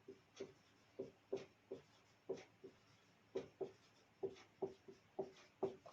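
Pen or pencil writes notes on paper in short, quiet scratchy strokes that come in an irregular rhythm, close up, with no voices.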